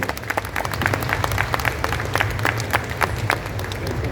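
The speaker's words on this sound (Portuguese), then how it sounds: "por favor, uma salva de palmas para Toshi Egashira." Audience applause at an anime guidebook launch event with the actors present, a steady patter of many hands clapping at moderate distance, with no talk over it.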